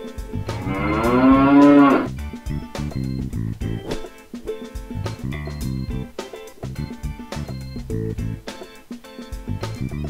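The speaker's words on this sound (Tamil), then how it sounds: "மாடு" A long, loud cow moo with a rising-then-falling pitch opens, lasting about two seconds, then cheerful rhythmic music continues alone.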